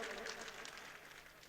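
Steady, dense applause from a mushaira audience at an All India Mushaira, a continuous wash of clapping that holds at an even level for the whole moment with no voices over it.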